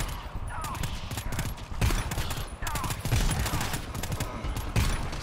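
Gunfire in the video game GTFO rattles nearly nonstop in loud, rapid bursts, with voices faintly mixed in.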